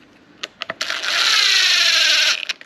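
A DeWalt 20V cordless impact driver snugs screws on an orbital sander during a belt change, giving a few short clicks, then one steady high whirring burst of about one and a half seconds and a couple of brief taps as it stops.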